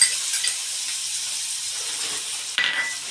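Finely chopped capsicum tipped into a hot frying pan for pav bhaji, producing a steady, bright sizzle that runs continuously, then a sudden louder burst of sizzling with a small clatter near the end; no one speaks.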